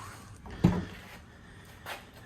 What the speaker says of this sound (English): So we'll do the quick test here with the door, see if there's any squeaking.